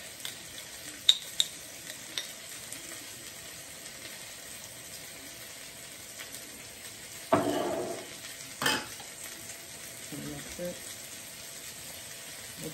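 Garlic hits a hot pan with butter and gives a sudden sizzle that fades out, with scattered utensil clinks and scraping from stirring nearby.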